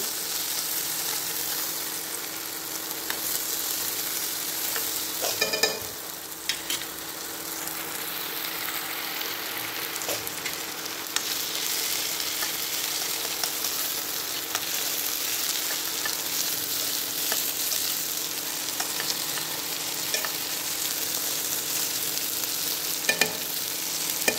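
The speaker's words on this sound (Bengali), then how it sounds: "পেঁয়াজগুলোকে ভাজছি" Steady sizzling of onions and tomatoes frying in a pan, continuous and fairly quiet, with occasional faint clinks and stirring scrapes.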